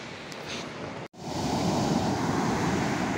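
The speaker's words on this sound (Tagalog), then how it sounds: "Grabe lalaki ng mga alon" Big ocean waves after a typhoon roar continuously against the shore, heavy and close, with wind buffeting the microphone and a brief dropout just past one second.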